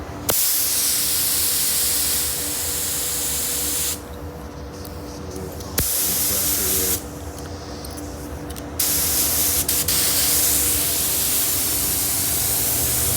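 A steady, loud hiss of a spray gun applying base coat paint on a car, broken by short pauses where spraying stops and restarts, close up and with no talking.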